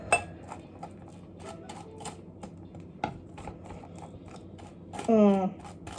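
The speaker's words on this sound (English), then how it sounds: "You take the fork and then you just mush it into each little crevice." A fork scrapes and presses avocado into toast, giving a run of soft, repeated clicks and scratches at close range, ending in a louder, rougher scrape.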